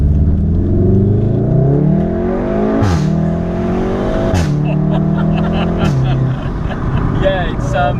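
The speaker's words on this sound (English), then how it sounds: "It's a big backfire there." A VW Golf R fitted with an Akrapovic exhaust roars loudly as it accelerates through rising gears, with sharp pops and a big backfire cracking over the engine note while people talk inside the car.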